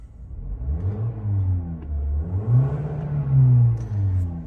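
Toyota Corolla SE engine revving repeatedly, a smooth mid-pitched drone rising and falling through several close-up throttle swells with no talk.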